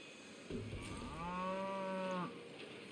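A single long, mellow cow moo sounds from the Blue Cow ice cream stall in the Planet Coaster video game, rising and fading over about two seconds against quiet park ambience.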